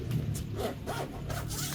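A zipper on a leather rear seat cover for a Nissan Titan is pulled in a few quick, rasping strokes, close and fairly quiet.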